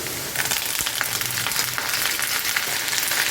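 Dried red chilies and curry leaves crackle in hot oil for garlic chutney, giving a steady, close, bright frying hiss throughout.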